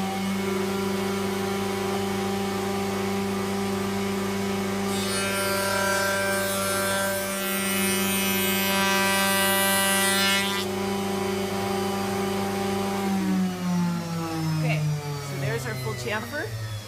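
A woodworking router cuts a second pass for a chamfered tongue and groove joint, giving a loud, steady motor whine that sharpens into a harsher cutting roar midway and then winds down toward the end.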